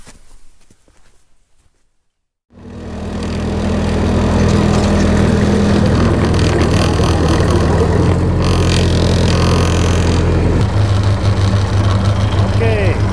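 A Caterpillar D2 crawler tractor hitched to a Minneapolis-Moline four-bottom plow starts up after a quiet moment, then its engine runs loud and steady close by, with a deep rumbling drone and a shift in tone toward the end.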